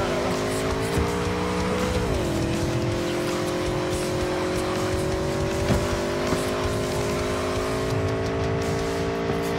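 Car drifting through a bend in the video game Cyberpunk, engine droning steadily with a pitch dip and recovery, tyres squealing over a continuous loud roar with faint talk mixed in.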